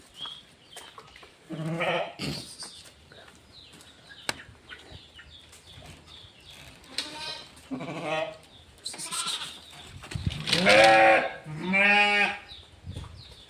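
Nari Suvarna goat kids bleating repeatedly on a farm, a series of loud, close, wavering cries in bursts with short pauses between, mixed with some shuffling and livestock movement.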